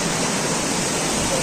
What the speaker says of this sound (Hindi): ग्लेशियर से पिघल के पानी आ रहा है, ये बहुत ठंडा पानी है